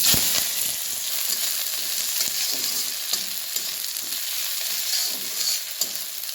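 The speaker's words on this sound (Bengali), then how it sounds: "এবার দেখুন এই যে রসুন কুচিয়ে নিয়েছি, পেঁয়াজ আর কাঁচা লঙ্কা, এগুলোকেও কিন্তু একটু ভেজে নেব।" Steady, bright sizzling of chopped garlic, onion and green chilies frying in hot oil, with scattered crackles and pops, close by and fairly loud, no voices.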